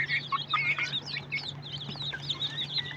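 Desi chickens cluck and chirp softly at night around eleven, a busy overlapping chatter of short, rising calls close by over a faint low electrical hum.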